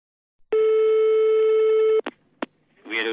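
A telephone gives one steady electronic ring tone lasting about a second and a half, cut off by a couple of handset clicks as the call is picked up, and a voice begins right after.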